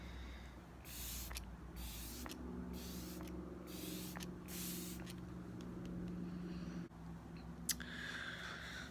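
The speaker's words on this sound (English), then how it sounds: "I'm going to finish with a little bit more of my GlamGlow spray" GlamGlow setting spray is misted in several short, soft bursts at close range in a quiet room, with no talking.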